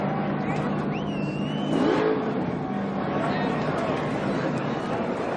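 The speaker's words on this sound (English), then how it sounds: "no telling how long his burnout will last" A NASCAR Cup Series stock car doing a burnout after a win at Texas, its engine roaring and revving up with a rising whine under crowd noise and an announcer's voice.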